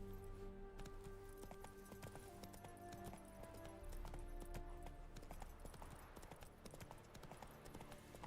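Horse hooves clip-clop steadily in The Witcher 3 video game, an even trotting rhythm that carries on throughout with soft game music tones behind it.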